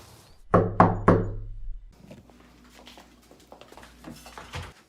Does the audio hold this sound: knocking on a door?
yes